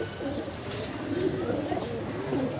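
Soft, repeated pigeon cooing, low and rounded, sounding close by over a steady background hum, with no talking.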